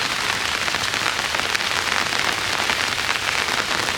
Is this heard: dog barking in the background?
no